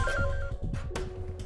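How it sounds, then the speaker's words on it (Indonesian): A mobile phone rings at home with a steady electronic tone pattern of held pitches, moderately loud against a busy domestic background. "Malah handphone Mama yang bunyi."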